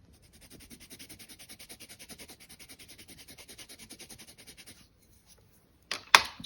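An Inktense pencil rubs back and forth on sketchbook paper in a steady, regular scratching rhythm, close and soft, ending with a couple of brief louder handling noises.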